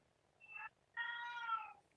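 Two clear meows from a nearby cat, a short call followed by a longer drawn-out one, heard alone against a quiet background with no talking.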